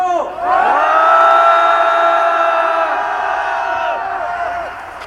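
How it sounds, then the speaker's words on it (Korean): A street rally crowd in Gwanghwamun roars in a long, loud collective cheer and shout that swells quickly, holds for several seconds, then fades. "힘찬 함성 질러주십시오!"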